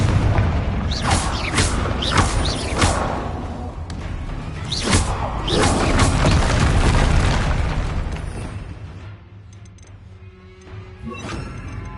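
Confringo fire spells exploding in the Hogwarts Legacy video game: repeated loud booming blasts with whooshes and crashing debris over roughly ten seconds, tapering off near the end.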